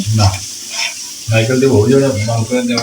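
Duck curry is sautéed in a pan, a loud frying sizzle with spatula scraping and stirring in bursts, while people talk over the cooking.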